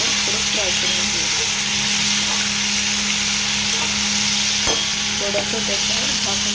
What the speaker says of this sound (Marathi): टाकून मग आपण थोडं फ्राय करून घेऊ.